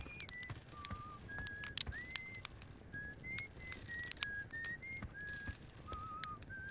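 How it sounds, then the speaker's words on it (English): Steady whistling on a planet in the video game Outer Wilds: a run of short, level tones at shifting pitches, repeating one after another over a soft, constant ambient hiss, with no talk. "And some whistling that we've been hearing."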